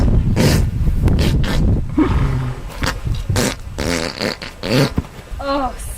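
A horse passing gas in a long, loud, sputtering burst of rumbling flatulence that continues for several seconds, with brief voices and a few higher squeaky tones near the end.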